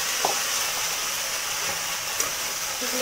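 Lentil paste stirred in hot oil in a pan sizzles with a steady, close frying hiss, broken by a few soft scrapes and clicks from stirring.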